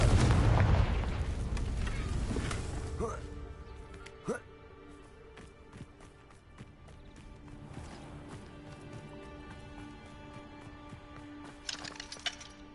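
Confringo blasting spell explosion from Hogwarts Legacy, played on PS5 in hard mode: a loud, crackling, booming burst in the first few seconds that fades, then a sharper single crack a moment later over softer game ambience.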